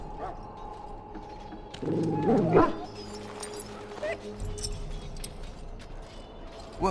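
A wounded dog in the fantasy role-playing game Dragon Age Origins whimpers and yips in short bursts, with a louder cluster of yelps early on, over low game ambience and faint voice-like sounds.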